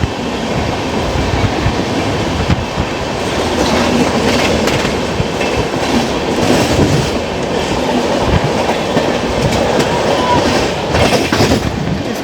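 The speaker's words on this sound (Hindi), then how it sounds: "अभी हमें सामने से क्रॉस होने वाले कुछ ही समय में SMP बेंगलोर से दानापुर को जाने वाली संघमित्रा सुपरफास्ट एक्सप्रेस" Sanghamitra Superfast Express, running from Bengaluru to Danapur, rolls past at a railway line in India, a loud continuous rumble with rhythmic wheel clatter throughout and no talk.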